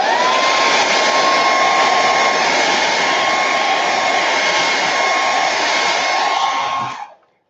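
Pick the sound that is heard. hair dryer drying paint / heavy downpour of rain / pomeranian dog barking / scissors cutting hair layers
hair dryer drying paint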